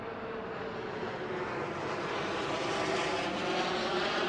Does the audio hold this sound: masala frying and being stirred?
no